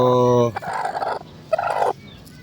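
SBR gamecock chickens call up close: a loud harmonic crow-like cry opens, followed by two bursts of raspy, gobbling clucks with a short pause between them.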